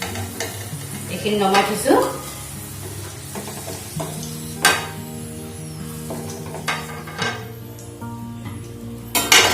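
Potatoes cut for French fries frying in hot oil, a steady soft sizzle with clinks and scraping of a utensil stirring in the pan, a brief voice heard near the start.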